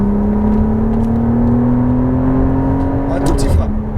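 A McLaren Artura accelerating on a racetrack, its engine note climbing steadily in pitch, heard from inside the car beneath a voice coaching the driver.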